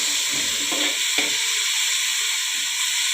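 Onions sauté in a pan for a fish head curry, a steady moderate sizzle and hiss with a few soft stirring scrapes, no speech.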